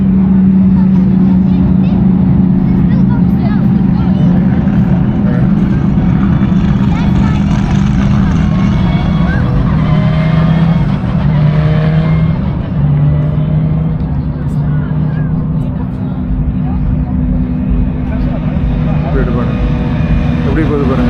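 Race cars on the Dubai racing circuit, a loud continuous engine roar and whoosh swelling and fading as they pass, with people talking over it.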